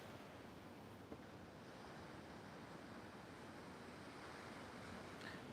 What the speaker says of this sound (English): I know you hear that ocean.